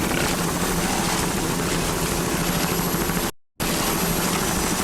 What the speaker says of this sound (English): powered by one 500-horsepower Merc Cruiser inboard with a Merc Cruiser drive